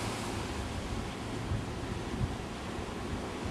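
Rough winter sea surges against the shore at Gizzeria Lido on the Lamezia coast, a continuous dense roar of surf and wind with a couple of heavier swells breaking through, and no one speaking.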